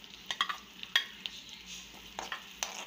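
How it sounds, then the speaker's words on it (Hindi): Cumin tempering (tadka) sizzling in hot oil on a gas stove, heard as a short hiss of frying broken by a few sharp clinks and scrapes of stirring nearby. "तो सिलेंडर पर मैंने रख दिया है तड़का तैयार होने के लिए।"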